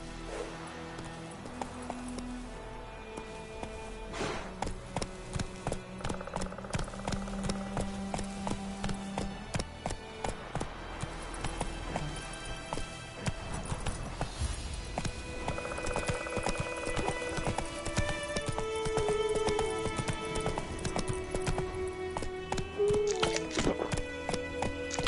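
Roach, a horse in The Witcher 3 video game, trots and gallops with rhythmic clip-clopping hooves throughout, mixed with game music and ambient effects, with a brief whinny near the end.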